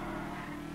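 Ocelot F620 sports car in GTA, its engine droning steadily with a metallic-edged exhaust note, loud and continuous for the whole moment without any talk over it.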